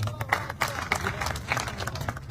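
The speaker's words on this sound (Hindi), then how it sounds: "एक बार अन्नू मलिक सहरसा के लिए भी जोरदार ताली।" Applause for a speaker at a Haryana NSUI political gathering in India, a loud, dense crowd clapping that sustains across the whole stretch with repeated bursts and no voice over it.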